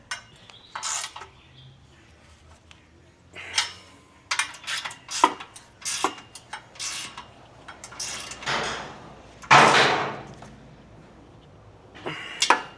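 A wrench ratcheting and clanking as exhaust bolts are tightened during an Ark GRiP exhaust install on a Nissan Z (RZ34), a series of close metallic clicks and scrapes in uneven bursts.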